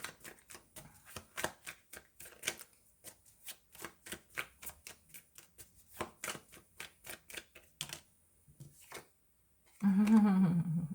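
A deck of tarot cards is riffled and tapped in quick, crisp bursts, a steady run of sharp flutters, followed by a brief louder rustle at the end.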